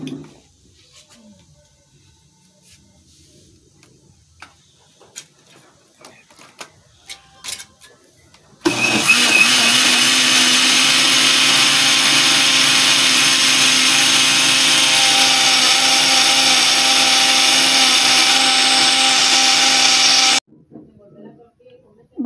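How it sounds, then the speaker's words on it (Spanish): A loud, steady blender motor whirs continuously for about twelve seconds blending salsa, starting abruptly and cutting off sharply, after quiet clinking and handling sounds. "vamos a licuarlo para"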